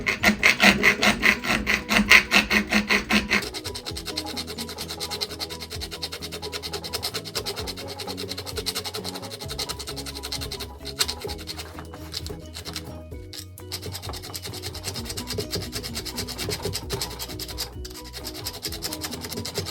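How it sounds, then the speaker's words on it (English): Hand filing on a part of a Redcat Copperhead Gen8 RC car makes a close, loud rasping scrape in rapid repeated strokes, with a few brief pauses and no talking. "And do a little filing there."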